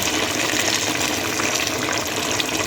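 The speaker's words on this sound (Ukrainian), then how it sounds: "Заливаємо гарячою водою" Steady rushing of hot water pouring into a pot of braised cabbage and meat, continuous and close, with no pauses or talking.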